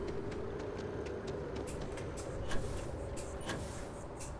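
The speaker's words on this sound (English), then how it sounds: "Probably just easier to take the train from where I was." A train ride in the Starfield video game, a steady low rumble of rolling carriages with faint metallic clicks and squeaks, continuous and even in level without speech.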